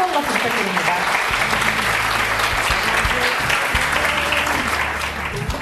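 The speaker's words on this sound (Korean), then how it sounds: "강연해주신 강병천 회장님께 다시 한번 뜨거운 박수 부탁드립니다" Warm, steady applause from a university lecture audience for a CEO speaker, continuous and full throughout, with a speaking voice carrying over it.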